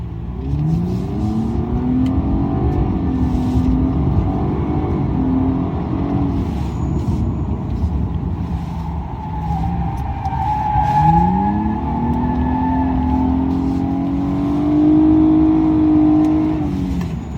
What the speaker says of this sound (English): You can hear those brakes.